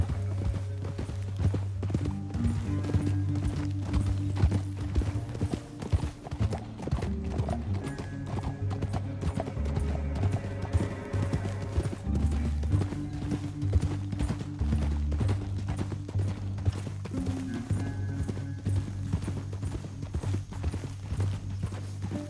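Steady clip-clop of horse hooves at a gallop with an occasional whinny in Red Dead Redemption 2 on PS4 Pro, over a continuous musical score that plays throughout.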